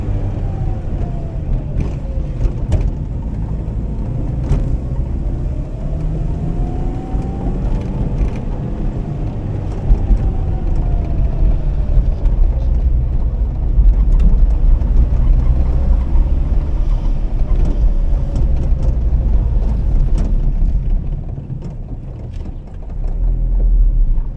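A struggling Yugo car engine runs in a backyard on gentle throttle, a loud, steady, close rumble with slow rises and dips in pitch and no talking.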